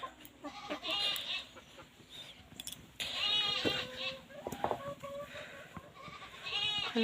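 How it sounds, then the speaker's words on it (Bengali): Chickens clucking for food on a rural homestead, with short scattered calls and squawks heard at a moderate distance over quiet outdoor background noise, with no talking. "আর এখানে দেখো আমার মুরগিগুলো কি করছে, খাওয়ার জন্য কক কক করছে।"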